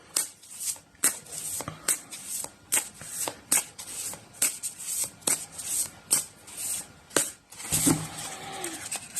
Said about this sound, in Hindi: तो हम कार्ड्स को शफल कर लेते हैं दोस्तों